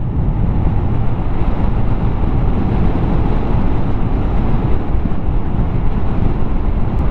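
A Honda Genio 110cc scooter is ridden at steady speed, and its engine hum is mostly buried under constant loud rushing wind noise with no break.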